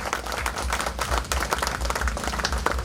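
An audience at a 25-year school reunion bursts into loud, dense applause, many hands clapping together steadily and close by for the whole moment.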